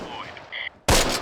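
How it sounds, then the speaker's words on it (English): Gunfire in the WW2 strategy game Close Combat: a sudden loud burst of shots breaking in near the end, after quieter in-game ambience with faint tones. "we got a little bit of gunfire"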